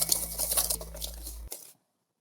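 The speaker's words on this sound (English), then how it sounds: "So I'm going to whisk all this together." Protein bar dry ingredients whisked together in a bowl, rapid close rattling and scraping strokes of a whisk against the bowl that stop abruptly into silence.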